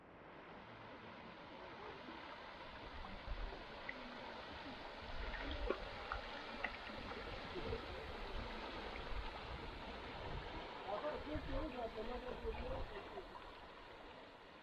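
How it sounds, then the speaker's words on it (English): Spring water of the Blue Eye welling up from underneath in a steady, soft rush, close by and continuous, with faint frog and wildlife sounds in the background. "directly underfoot is the Blue Eye itself, where the waters flow up from underneath"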